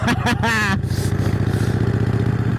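A 1951 Harley-Davidson EL Panhead motorcycle chugs along with a steady, loping low engine beat close by while a rider talks briefly over it at the start.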